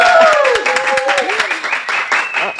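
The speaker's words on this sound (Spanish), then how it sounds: "Un aplauso para Keiko." Audience applause on a Spanish-language TV interview show, lively clapping heard under and between voices speaking close by.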